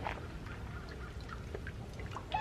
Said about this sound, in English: It is raining. It's kind of pouring down.